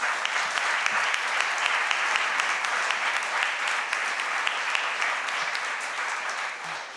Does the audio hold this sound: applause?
yes